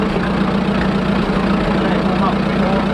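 A Fordson N tractor engine running on petrol idles with a steady, loud, close rumble throughout, with some talking over it.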